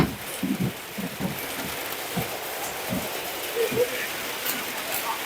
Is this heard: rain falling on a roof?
yes